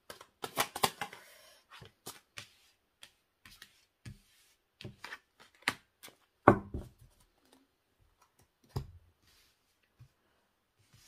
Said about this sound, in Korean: 네, 두 분의 과거 관계 모습 카드 3장을 뽑았어요